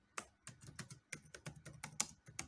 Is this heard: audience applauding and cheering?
no